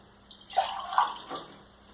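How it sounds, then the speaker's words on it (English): Purple pH indicator liquid is poured into a glass jar, a brief close splash and gurgle that swells and fades within about a second, with a small final drip and no one speaking. "But then when I go and I pour this purple liquid in there"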